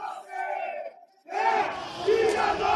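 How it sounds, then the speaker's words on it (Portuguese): Corinthians supporters protesting at Parque São Jorge: a loud crowd chanting and shouting, breaking off briefly, then surging back in a dense, sustained roar. "Estamos aqui então no Parque São Jorge para acompanhar esse protesto da torcida do Corinthians."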